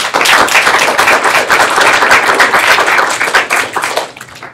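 Applause from the audience at a student government association meeting, dense and steady clapping that holds for about four seconds and then thins out toward the end.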